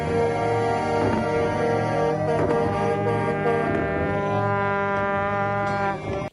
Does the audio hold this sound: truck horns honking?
yes